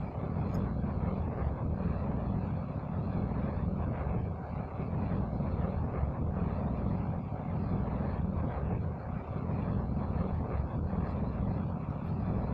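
Space plane engine roaring at takeoff in modded Kerbal Space Program, a steady dense rumbling drone held at constant loudness throughout, no speech over it.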